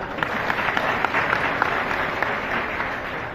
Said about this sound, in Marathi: डिसले साहेबांच्यासाठी एकदा टाळ्या होऊन द्या